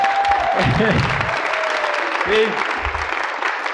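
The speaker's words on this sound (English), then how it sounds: "give a big round of applause" Applause fills the room at a 1995 stand-up comedy show as a steady wash of clapping while someone talks over it briefly.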